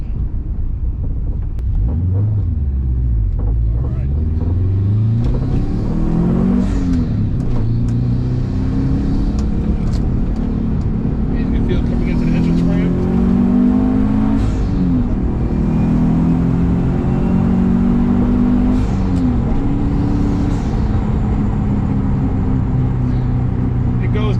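A Subaru Forester XT's 2.5-liter flat-four boxer engine revs up repeatedly, its rumbling pitch climbing and falling in sweeps, loud and close, with a low throbbing tone.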